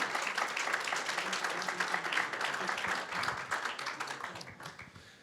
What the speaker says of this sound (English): why don't we just give them a round of applause for doing this tonight